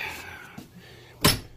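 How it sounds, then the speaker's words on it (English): A cargo trailer door is pulled shut, with some faint rattling and shuffling leading into a single loud, close thud that lingers briefly, with no talk over it. "let me shut this door."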